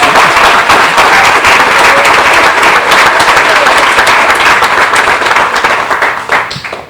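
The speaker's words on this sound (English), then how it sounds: "It's one more round of applause for Diane." Loud, close applause from a crowd at an annual meeting and awards event, many hands clapping in a thick steady roar that tapers off in the final second.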